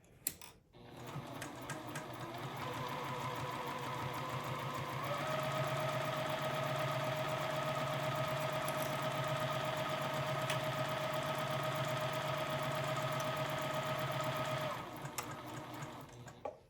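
Sewing machine running steadily as it stitches an oven mitt, a continuous motor whir with rapid needle clatter lasting about fifteen seconds, close and fairly loud, with no talking.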